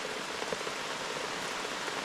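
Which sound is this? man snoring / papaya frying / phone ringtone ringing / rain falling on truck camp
rain falling on truck camp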